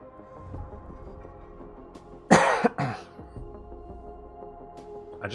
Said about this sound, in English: I just got like a sore head when I coughed.